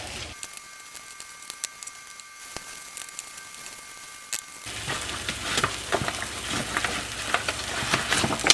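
Creamed fresh corn cooks down in a skillet, a soft bubbling sizzle that starts faint with a steady hum, then swells into denser crackling and popping for the remaining seconds, no voices.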